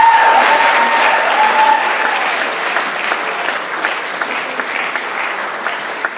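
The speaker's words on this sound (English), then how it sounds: "they deserve a round of applause from you" An audience applauds parents at a National Honor Society induction ceremony, a dense, steady wash of many hands clapping that starts loud and gradually thins and softens toward the end, with no talking over it.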